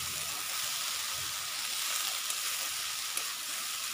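Saag greens frying with golden-brown onions in a pan, giving a steady, bright hiss of sizzling with faint stirring scrapes, close and continuous, no voices.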